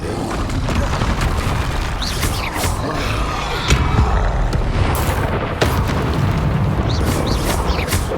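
Dense combat in the Hogwarts Legacy video game, with Confringo and Bombarda spells going off again and again as heavy booms and slams, one after another, over a constant rumbling clatter.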